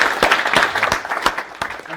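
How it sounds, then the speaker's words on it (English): A small audience claps for the speakers at the close of a tech meetup on IoT and AI. The applause is close and lively, with scattered sharp individual claps standing out. "So a final thank you and round of applause to our speakers."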